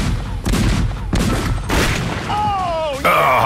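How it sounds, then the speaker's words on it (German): Cannon fired after its fuse is lit in a documentary scene, heard as a series of loud, broad booming blasts in quick succession, followed by a high whistling tone near the end. "feuern wir die Kanone ab. Die Lunte brennt."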